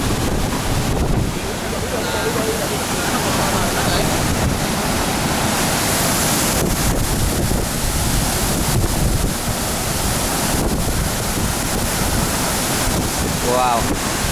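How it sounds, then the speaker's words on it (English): The big Ouzoud waterfall in Morocco roars steadily from up close, a continuous dense wash of falling water mixed with gusts of wind buffeting the microphone throughout. "This is the biggest waterfall that I've seen in person to date."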